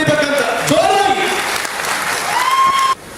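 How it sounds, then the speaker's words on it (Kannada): Applause from a large crowd at a dedication ceremony in Sandur, Bellary, filling about three seconds, with a voice speaking over it and a steady tone running through, ending abruptly. "ಅದಕ್ಕೆ ತಾವೆಲ್ಲ ಜೋರಾಗಿ ಒಂದು ಸರಿ ಚಪ್ಪಾಳೆ ಹೊಡಿಬೇಕಂತ, ಜೋರಾಗಿ"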